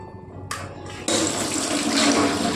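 Tap water runs onto soaked lentils being washed in a kitchen sink, a brief trickle that bursts into a steady, loud gush of splashing water.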